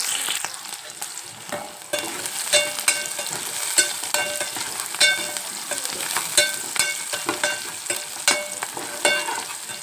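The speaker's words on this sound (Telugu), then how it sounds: "ఇప్పుడు ఉల్లిపాయలు పచ్చిమిరపకాయలు వేసాను" Onions and green chillies fry in a pan, with a continuous sizzle broken by frequent scraping and tapping strokes as the ingredients are stirred.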